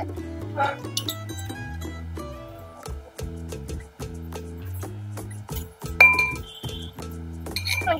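Knife clinking against a plate while boiled eggs are cut for an egg curry, a series of sharp close metallic taps and scrapes with brief pauses, no talk.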